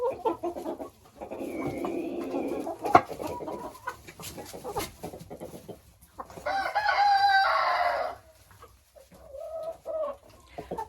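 A white-tailed rooster crows and calls to his hens, with a long harmonic crowing phrase near the end, scattered clucks and chicken sounds before it, and a shorter call trailing off.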